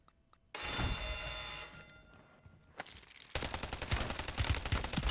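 Automatic gunfire in Call of Duty Modern Warfare 3 bursts in loud and sustained after a brief quiet start, briefly easing, then resumes as a dense, rapid rattle of shots.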